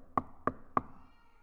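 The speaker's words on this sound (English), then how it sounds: "Job is at home when he hears someone knocking." Three evenly spaced knocks strike a door, sharp and hollow with a brief ring, fairly close, then quiet room tone.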